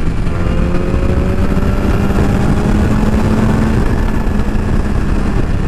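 A BMW S1000RR with a 1000 cc engine pulls along in sixth gear at about 100 km/h, a loud, steady engine drone mixed with wind rush that holds evenly throughout.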